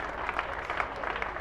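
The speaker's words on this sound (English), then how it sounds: "A big round of applause, ladies and gentlemen," Audience at a World's Strongest Man heat claps in a sustained burst of applause, steady and moderately loud from a crowd at some distance, with a faint voice underneath.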